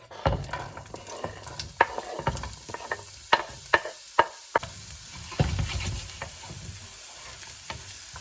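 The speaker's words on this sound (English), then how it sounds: "I'm gonna use some of this bacon grease to fry up the onions and the garlic" Onions and garlic frying in bacon grease, with a constant crackling sizzle broken by sharp taps and scrapes of a spoon stirring against the pan, close and fairly loud.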